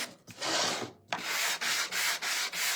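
Steady, rasping sanding-block strokes roughing up the edges of a wooden sign, close and loud, in repeated back-and-forth passes with brief pauses between them.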